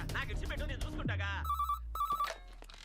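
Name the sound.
landline telephone ringing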